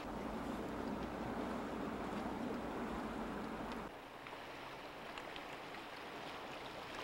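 A Range Rover wading through water in third gear low range, pushing a bow wave: a continuous broadband rush of water and engine, steady and moderately loud, then dropping to a quieter wash partway through.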